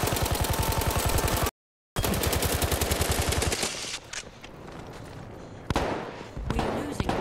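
Battlefield 1 gunfire in a tank-fight match: long, rapid machine-gun bursts close and loud, broken by a short gap, then scattered shots and explosive thumps as the firing trails off.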